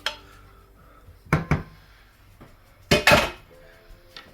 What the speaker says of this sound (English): I'm going to go ahead and add this to my noodles that are already cooked